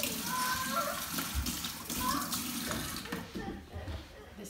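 Bleach and water poured into a carved Halloween pumpkin, a splashing, running-water sound that fades toward the end, with people talking over it.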